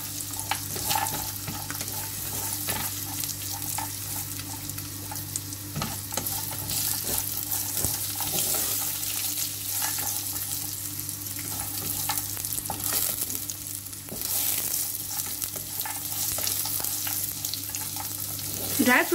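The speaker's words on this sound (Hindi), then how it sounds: "हमने मिक्स ड्राई फ्रूट्स लिए थे हम इसमें ऐड कर देंगे और जो हमने डेट्स ली थी वो भी इसमें ऐड कर देंगे और इनको फ्राई कर लेंगे" Mixed dry fruits and dates frying in ghee for sheer khurma, a continuous close sizzle with frequent scraping stirs and clatter, moderately loud throughout.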